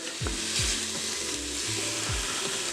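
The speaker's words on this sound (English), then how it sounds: "Just keep sauteing it until everything's cooked." Onions and green chillies sauté in a pan with ginger garlic paste for egg biryani. The sizzle is loud and steady, and a utensil stirs and scrapes through it a few times.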